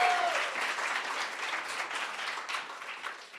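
Steady applause from an evening audience at a poetry recitation finals, a dense wash of clapping that holds for a few seconds and slowly tapers off.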